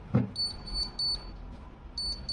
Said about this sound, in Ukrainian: І як чуєте, павербанк починає пищати.